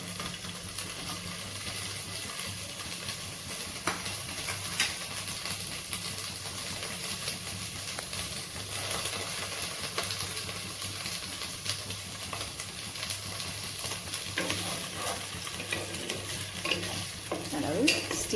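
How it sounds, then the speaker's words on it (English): Boiled potatoes shallow frying in hot oil in a home kitchen pan, a steady close sizzle with occasional scraping and stirring clicks throughout, no voices. "The oil is ready now, hot. Now I will put the boiled potatoes."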